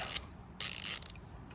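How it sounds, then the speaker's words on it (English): A Litton pocket socket quarter drive ratchet clicks in two quick close bursts of sharp metallic ratcheting separated by a short pause, with no talking. "It's a Litton pocket socket. You see it's a nice little quarter drive ratchet."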